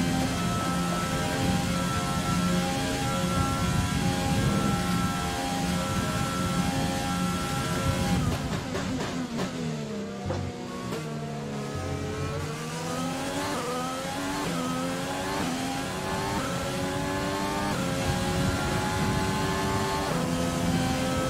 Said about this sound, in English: Gearbox is having issues.